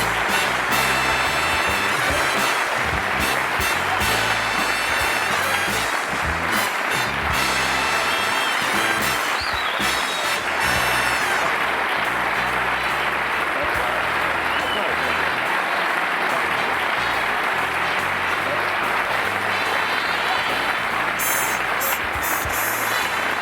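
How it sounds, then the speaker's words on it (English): Sustained studio audience applause on a 1984 Johnny Carson talk show, a loud, dense wash of clapping filling the room continuously from start to finish, with some cheering mixed in. "I'm humbled by that applause."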